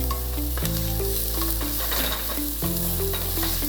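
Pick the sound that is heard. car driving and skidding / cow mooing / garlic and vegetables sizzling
garlic and vegetables sizzling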